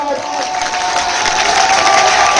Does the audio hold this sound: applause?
yes